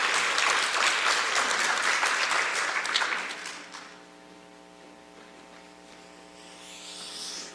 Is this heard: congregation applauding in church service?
yes